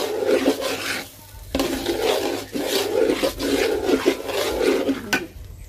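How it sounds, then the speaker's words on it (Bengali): Polao rice being stirred and fried in a pan for chicken biryani, a steady close scraping sizzle in repeated stirring strokes with brief pauses, no talk. "ভালো করে নেড়ে চেড়ে ভেজে নেব চালটা।"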